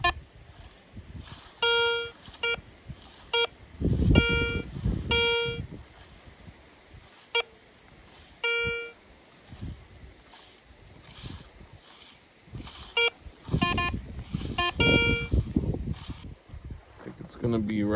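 A metal detector sweeping near a house gives repeated high electronic beeps, short tones recurring every second or two over wind noise and rustling, with someone talking at times.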